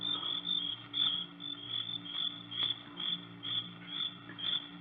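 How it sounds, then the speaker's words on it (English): Crickets chirp loudly at night, a shrill high trilling that pulses in an even rhythm, with nothing else in the background. "there wasn't a sound except the crickets, shrilling so loudly the noise seemed to beat inside my brain"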